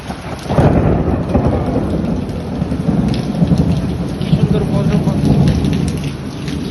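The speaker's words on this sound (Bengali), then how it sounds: "বজ্রপাত হচ্ছে" Thunder rumbles low and loud through a heavy rainstorm, its rolling boom filling the clip over a steady wash of falling rain.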